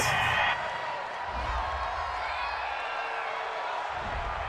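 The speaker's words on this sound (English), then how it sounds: "This home crowd, they're happy with that call." A home crowd at an NFL Wild Card playoff game, Cowboys against Seahawks, roars for a referee's flag on third down, sending a broad, sustained cheer of steady loudness through the stadium.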